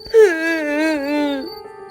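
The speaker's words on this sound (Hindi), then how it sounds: "अचानक एक औरत की धीमी, करुणा भरी रोने की आवाज सुनाई देती है।" A woman's soft, sustained wailing cry rises and wavers for over a second in a horror-story setting, mournful and drawn out, heard alone without talk.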